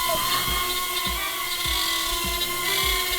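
Lieber LB1060 mini racer drone flying close by, a steady high-pitched motor whine with faint pulsing modulation running continuously and loud throughout, with no talking.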